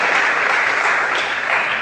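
A church congregation applauds for Jesus during a sermon, a dense, steady roar of many hands clapping at once, loud and continuous throughout with no talk on top.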